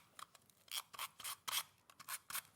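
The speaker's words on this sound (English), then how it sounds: "I'm going to get my scissors and just trim this down" Scissors snipping excess craft paper, about eight crisp cuts in an irregular rhythm, close and fairly quiet with no talk.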